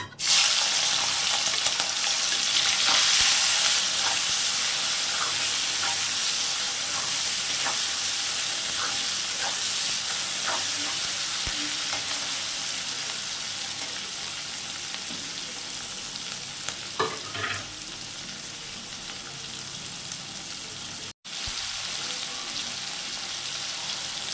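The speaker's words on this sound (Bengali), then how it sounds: "এবার আমি চিংড়ি মাছ কটাও ভেজে নেব।" Prawns sizzle steadily in hot oil, a continuous close crackle with a few stirring clicks and a brief cut near the end.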